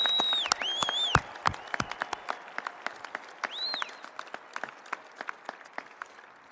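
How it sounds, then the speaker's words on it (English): Crowd in a stadium at a graduation ceremony claps and cheers, with loud whistles early, then scattered individual claps thinning out over several seconds. "can we give a round of applause to Allegiant Stadium and the Raiders for hosting us tonight?"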